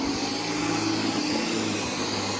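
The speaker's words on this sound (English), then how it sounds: "it holds a good battery, it gets the job done. It sure beats using a corded vacuum cleaner" A cordless battery-powered vacuum cleaner runs close by indoors in a college building, giving a steady, loud motor whine with no pauses.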